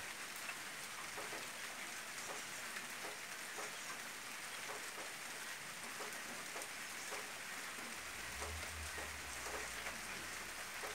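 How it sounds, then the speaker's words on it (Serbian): Steady rain falls on a field on a wet morning, a dense, even hiss of drops with no pauses, while a faint low rumble passes near the end. "Pada kiša na polju."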